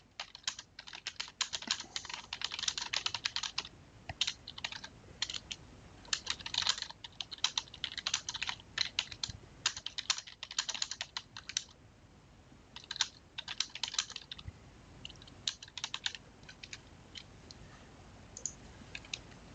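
Typing on a computer keyboard, rapid uneven clicks of keystrokes in bursts with short pauses, close and fairly quiet.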